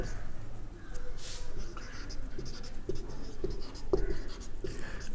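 A pen scratches steadily while working out a Class 9 number system math solution, with continuous close strokes and a few sharper taps. Quiet speech runs underneath.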